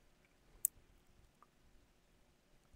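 A single sharp computer mouse click, faint and alone over a quiet room hiss, with no talking.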